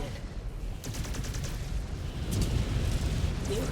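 A battlemech blows apart in MechWarrior 5: Clans, a rumbling explosion with crackling blasts and gunfire, dense and sustained, swelling slightly near the end.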